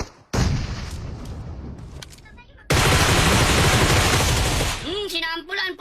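Bursts of video game gunfire, a short volley followed by a longer sustained stretch of rapid shots, loud and close, with a voice breaking in at the end.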